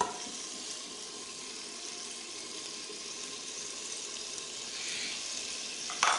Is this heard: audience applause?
no